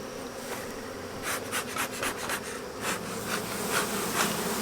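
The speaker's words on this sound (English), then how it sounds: "A few bees up there too." Honeybees buzz steadily around an open beehive box, a dense near hum with small rises as bees pass close, and brief rustling sounds from hive handling.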